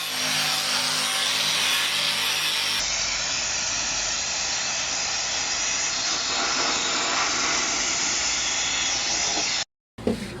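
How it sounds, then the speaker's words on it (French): Angle grinder working on the bodywork of a VW Golf rally car, a loud, continuous high-pitched grinding hiss held steady for about nine seconds before cutting off abruptly, followed by a brief clatter. "on va attaquer la meuleuse."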